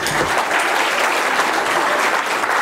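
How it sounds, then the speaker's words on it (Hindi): A crowd at a school annual day function applauds loudly and steadily for a couple of seconds, dense clapping with no pauses. "एक जोरदार तालियां"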